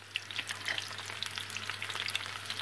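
Turkish manti dumplings with minced meat frying in a pan give a steady, close crackling sizzle with small pops, and no voices.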